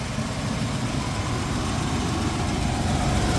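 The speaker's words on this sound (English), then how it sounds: "it did fire right up, touch of the key. The engine runs great." A 1970 Chevrolet Monte Carlo with a small block 400 V8 idles steadily, a continuous low rumble with even loudness and no voices over it.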